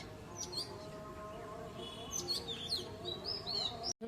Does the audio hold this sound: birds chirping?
yes